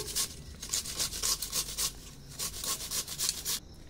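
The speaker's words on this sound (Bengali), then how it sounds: "খেজুরের গুড় ঘষে নিচ্ছি।" Date palm jaggery rubbed against a grater in a kitchen, a steady run of rhythmic scraping strokes, close and fairly loud, about eight to ten per few seconds, with no talking.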